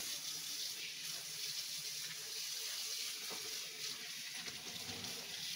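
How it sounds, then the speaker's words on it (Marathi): Running tap water streams steadily over wild forest leaves, tera and mhashivel, being washed before making vadi, a continuous even splash without speech. "तर आता ह्या पाना आधी आपण धुवून घ्या"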